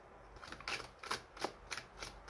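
Oracle cards are shuffled in several quick riffling bursts, close and fairly soft, with short pauses between each pass.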